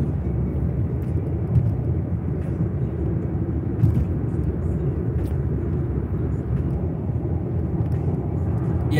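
Car exhausts give a low, steady rumble at a distance, fairly quiet, with a few faint clicks and no talking.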